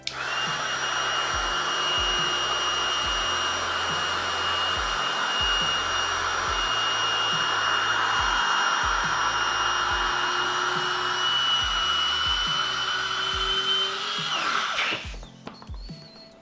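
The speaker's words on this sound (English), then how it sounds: "Besides inflating the raft with the max pump, it can also be used to inflate the components of the raft" An electric Max Pump inflates a packraft with a loud, steady whine and a high tonal drone for about fifteen seconds, then cuts off abruptly, leaving brief quiet.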